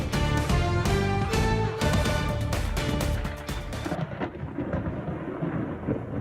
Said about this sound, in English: Oh, the sound of thunder earlier today.